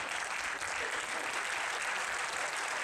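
Audience applause fills the room: dense, continuous clapping from a crowd at a live event, loud and steady throughout.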